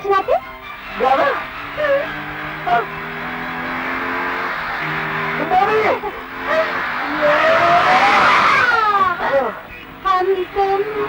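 A car is driven fast in a 1988 Hindi action film, its engine droning with a brief tire squeal near the end, heard under people talking and background music.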